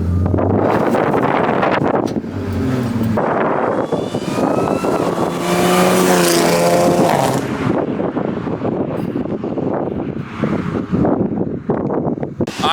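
A loud supercharged Audi A6 engine roars and revs up and down as the car drives, with heavy wind buffeting the microphone throughout.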